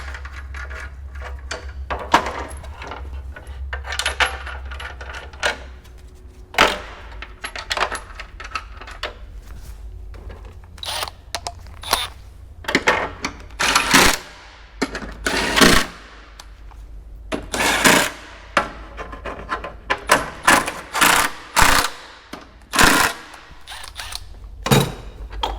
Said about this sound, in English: Now we'll be installing the cross brace that goes under the transmission. Uses 4 12 millimeter bolts.